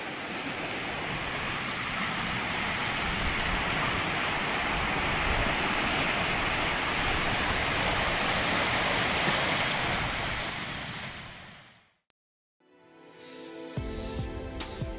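Ocean waves crash steadily against the shore at Tofino, a loud, continuous surf roar with wind noise that briefly cuts out, then returns more faintly beneath a soft musical tone.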